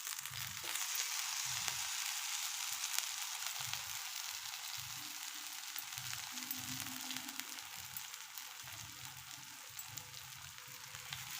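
Brinjal fries in oil in a pan with a soft, continuous crackling sizzle, faint and even throughout, under a low background hum.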